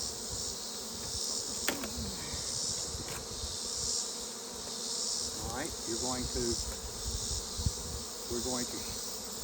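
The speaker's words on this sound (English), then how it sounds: "But it's got bees in there." Bees buzz in a small hive box as a steady, close hum, with a few brief voices speaking over it.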